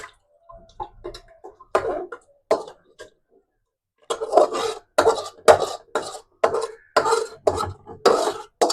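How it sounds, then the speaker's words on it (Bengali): A metal pressure cooker holding mutton curry is handled and closed in a home kitchen, with a rhythmic series of scraping, grating metal strokes and light clanks, close and fairly loud after a quieter start. "এবার দিয়ে দিচ্ছি প্রেসারে।"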